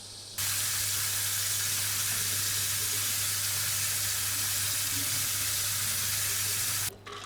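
Soaked red lentils are rinsed under a running kitchen tap, giving a steady hiss of flowing water with a low hum beneath. The stream starts and stops abruptly.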